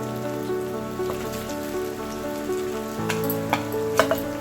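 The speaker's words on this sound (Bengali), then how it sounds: "দেখুন বন্ধুরা চালটা ভাজা হয়ে গেছে" Chalta (elephant apple) frying in a pan as a pickle base, giving a steady close sizzle with a few sharper clinks of stirring near the end.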